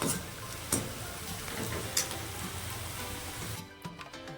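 Vegetables frying in hot oil for a veg dum biryani, a steady close sizzle with crackling bursts and a few louder pops, ending with quieter scattered crackles.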